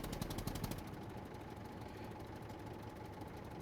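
Tractor engine in the SCUM game running steadily at close range, a continuous rumbling drone with a brief rougher knocking pulse at the start, no talk over it.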